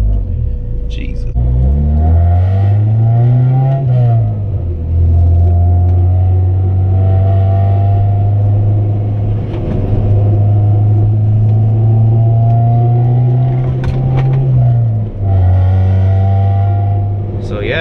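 A Honda car converted to electric power steering with a Volvo pump drives through roundabouts in heavy traffic. Its engine gives a close, steady drone that rises and falls in pitch as it speeds up and slows down.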